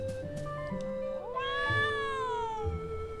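A cat in the Trials of Mana video game gives one clear, drawn-out meow with a rising then falling tone, close and alone over a low game music backdrop.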